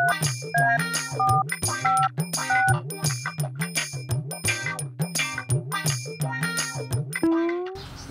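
A mobile phone rings with a repeating electronic melody of bright tones over a low hum, several close cycles, then cuts off with a rising tone.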